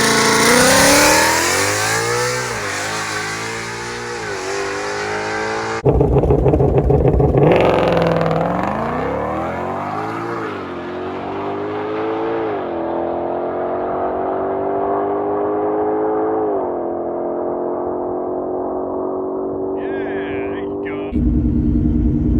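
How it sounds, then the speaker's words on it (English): A 2020 Shelby GT500 drag car launches hard at a drag strip, its engine revving loudly then roaring and shifting upward through the gears as it pulls away, staying loud and close. "I'll show you a clip of the Mamba launching"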